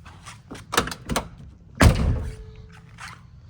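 The door of a 1977 Ford Escort RS2000 Mk2 rally car is shut firmly, giving one loud, close, solid thunk after some lighter handling clicks and rattles, then a short fading tail.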